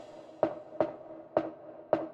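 Unchopped drum loop from a K-pop boy group production: four evenly spaced punchy hits with a tonal ring, faint and close, no voices.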